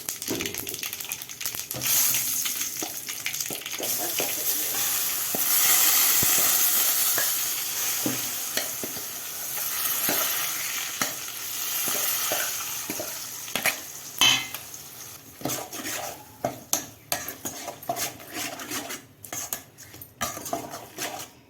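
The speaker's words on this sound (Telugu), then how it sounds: "చూడండి కలుపుతున్నా." Coconut chutney mixture with turmeric is stirred in a frying pan, a steady close sizzle broken by repeated scraping and clinking of a utensil against the pan that grows more irregular toward the end.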